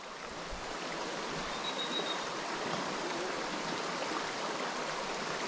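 A gundog swims and splashes during water training, giving a steady, continuous wash of splashing and rushing water at close range with no talking.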